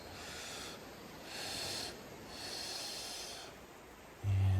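Slow, deep breaths drawn in and out during a guided breathwork session, soft airy whooshes rising and falling in long waves with no talking, ending in a low thump.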